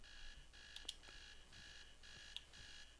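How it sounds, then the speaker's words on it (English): In the video game Behind Closed Doors, an alarm clock rings faintly with a steady repeating electronic tone pattern, alone and without talk. "Press A on your alarm to turn it off."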